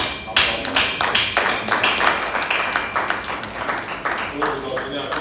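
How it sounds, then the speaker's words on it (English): Audience applause at a book launch for an alphabet book, a run of irregular clapping from the crowd filling the room at moderate loudness, with some talk mixed in. "And we must give a good applause."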